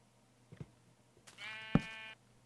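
A sheep in the video game Minecraft bleats once, a short clear wavering call after a couple of faint clicks, alone and close.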